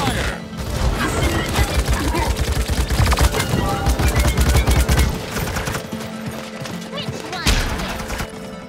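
Sustained bursts of gunfire and rapid automatic shots rattle loudly for several seconds, with crashes and impacts mixed in and a voice briefly audible beneath the barrage.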